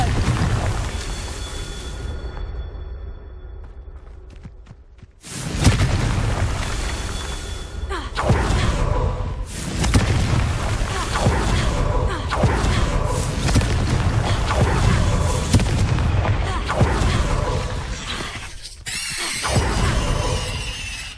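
Confringo spell blasts in the Hogwarts Legacy video game: a quieter passage gives way to a run of loud, booming explosions that burst repeatedly for about fifteen seconds, with a final sharp crackling hit near the end.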